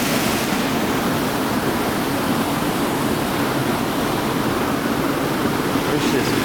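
A waterfall pours into a deep creek in a canyon, giving a steady, loud, unbroken rush of white-noise roar that fills the whole stretch.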